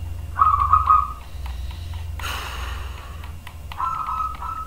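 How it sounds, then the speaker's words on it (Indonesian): Birdsong in the morning: a bright, whistled trill near the start and another toward the end, mid-loud over a steady low rumble with a brief noisy burst in between. "Ini burung-burung juga pada nyanyi, ini kenapa pagi-pagi coba."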